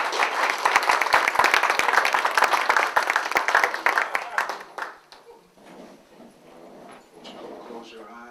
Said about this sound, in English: Let's give him a hand clap as he's coming.